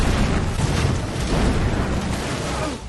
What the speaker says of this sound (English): A train then passes between the two cars, and immediately after that, Anders' car explodes.